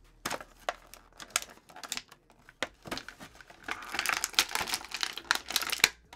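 Scissors snip and crinkle through plastic toy packaging while a WWE action figure is unboxed, giving a run of close, sharp cuts and crackles that grow busier toward the end.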